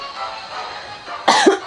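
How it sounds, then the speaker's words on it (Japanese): A person coughs sharply and close to the microphone, two quick bursts near the end following a quiet, low background. "咳は本当すいません。"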